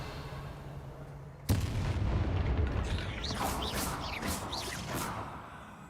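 A spell cast in Hogwarts Legacy: a sudden deep booming burst, then a sustained rumbling, shimmering magical swell with whooshing sweeps that slowly fades, loud and close with no talk.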